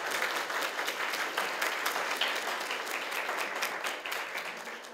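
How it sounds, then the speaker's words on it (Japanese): Steady applause from an audience thanking the work groups at a Toyama prefecture growth strategy vision session in Oyabe, dense clapping holding evenly for several seconds with no voices on top. "お互いのグループの皆さんに改めて拍手をお願いします"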